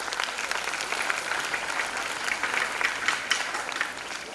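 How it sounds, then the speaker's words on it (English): An audience at an aviation academy event applauds steadily for about four seconds, a dense, even wash of clapping from a seated gathering with no voices on top. "please give a big round of applause for Speedwings Aviation Academy"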